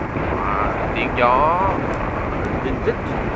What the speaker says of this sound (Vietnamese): tiếng gió